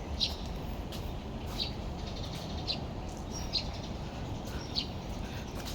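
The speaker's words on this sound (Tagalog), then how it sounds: "Wow, ang daming kalapati." Many pigeons in a park give soft, repeated high chirps and calls over a steady faint background hiss, with no talk.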